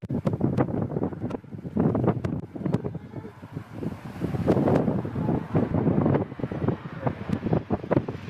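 Strong, gusty wind batters the microphone near an airplane landing in a crosswind, a loud rumbling roar that surges and drops in uneven bursts.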